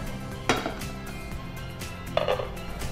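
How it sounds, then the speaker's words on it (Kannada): A metal cooking pot set down on a gas stove in a home kitchen gives two sharp metallic clanks, one early and one near the end, over a low steady background. "ನೆಕ್ಸ್ಟ್ ಗ್ಯಾಸ್ ಮೇಲೆ ಪಾತ್ರೆ ಇಡ್ಬೇಕು"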